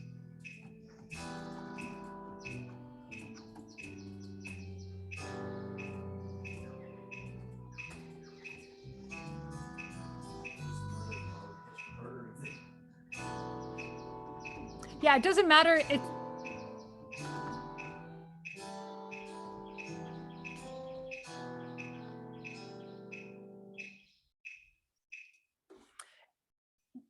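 A sampled bird tweet triggered from a keyboard in Logic Pro's sampler, repeating as short, high, evenly spaced chirps over a sustained synth-like musical bed, with a brief louder burst midway and a quiet voice talking at times.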